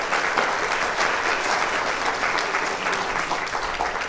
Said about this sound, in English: Let me tell you what I think they're saying with their applause